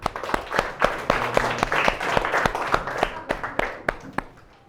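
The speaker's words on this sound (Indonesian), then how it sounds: "Tepuk tangan untuk Mbak Siwi." A primary school class claps for a student who has just presented. The claps are close and steady, quick and evenly spaced, with faint murmuring underneath.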